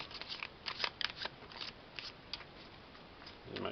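Board game cards for Museum Rush with The Big Heist expansion are shuffled, giving quiet, crisp riffling flicks and rustles in uneven bursts, close by.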